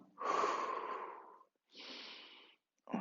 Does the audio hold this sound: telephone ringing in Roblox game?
no